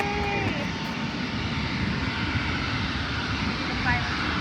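An Alaska Airlines airplane taxis after landing at Yakima airport, its engines giving a steady, loud roar and broad rumble throughout, with people talking over it.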